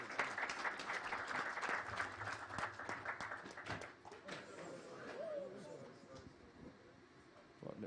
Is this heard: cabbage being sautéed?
no